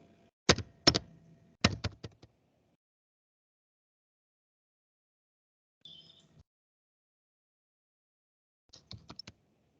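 Short bursts of computer keyboard typing on a PC at a service desk: two quick clusters of key clicks near the start, a faint brief tap midway, and another light flurry at the end, separated by silence.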